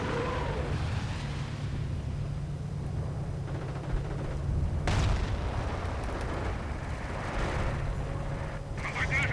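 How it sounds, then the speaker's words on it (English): Heavy booms and gunfire thud on and off across a WWII strategy game battlefield, with a commentator talking over the steady din of combat. "And artillery moving in, and no surprise there."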